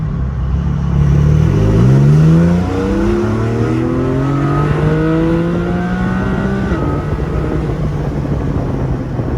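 A Porsche 718 Spyder engine revs loudly up through the gears, with its pitch climbing and dropping on each shift as it accelerates, close and sustained with no talking.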